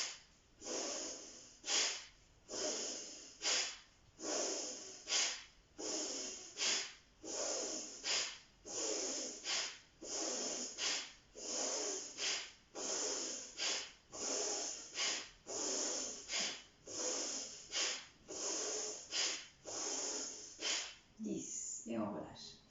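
Repeated deep breaths during a guided breathing exercise, about twenty loud, close in-and-out cycles in a steady slow rhythm, each breath a strong airy rush through nose or mouth, heard alone without talk.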